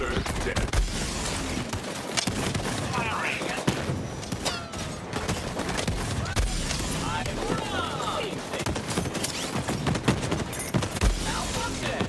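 Borderlands 3 gameplay with dense, rapid gunfire and thuds mixed with game voices and effects, continuous and loud throughout.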